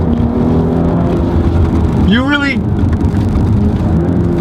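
A 2018 Audi S5 Sportback with all-wheel drive is driven hard with traction control off, its engine droning loudly and rising in a brief rev under a voice.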